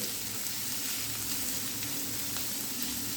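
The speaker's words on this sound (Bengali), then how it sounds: "এবারে তেলের সঙ্গে পেঁয়াজগুলো একটু ভালো করে ভেজে নিতে হবে।" Chopped onion and green chillies fry in hot oil in a pan as a filling for Bengali fish kachori, giving a close, steady, dense sizzle with no talk.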